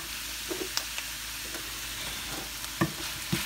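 Carrots sizzle steadily in a hot pan for green banana and beef, a soft continuous frying hiss broken by a few clicks and scrapes of stirring, with no one talking.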